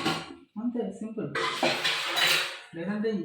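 Dishes and cutlery being scrubbed with soap at a home sink: a loud stretch of clattering, scraping utensils in the middle, with someone talking before and after.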